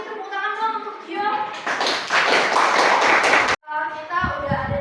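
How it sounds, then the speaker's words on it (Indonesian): Students in a classroom clap together for a classmate, a dense burst of hand claps running for about two seconds between stretches of talking, with children's and a teacher's voices before and after. "tepuk tangan dong untuk Gio."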